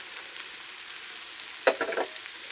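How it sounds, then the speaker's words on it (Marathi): Green peas sauté in a pan with tomatoes for upma, a soft, steady sizzle close by, broken near the end by a few quick scraping stirs of a spatula, with no talking. "छान परतून घेऊ आहे."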